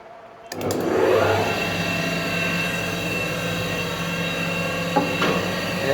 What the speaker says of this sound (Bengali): তো আজকে আমরা এখন মেশিনটাকে একটু চালু করে দেখাই দিই।